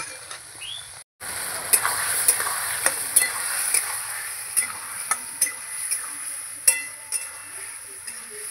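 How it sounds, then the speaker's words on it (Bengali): Spice paste for a light fish curry sizzling in a pan with added water and potatoes, a steady close fry broken by regular scrapes of a spoon stirring. "এই যে জলটা দিয়ে ভালো করে এবার কষাবো। আলুর সাথে কষিয়ে নেব।"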